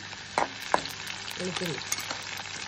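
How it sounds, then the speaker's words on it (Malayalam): Garlic sizzles in hot coconut oil in a pan, a steady close crackle broken by a couple of sharp stirring knocks and some scraping near the middle. "വെളുത്തുള്ളി ഇട്ട് നന്നായിട്ട് മൂപ്പിക്കണം"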